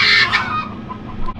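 Chickens in an off-grid homestead run make a burst of clucking and squawking, loud at the start and then settling into softer scattered calls nearby.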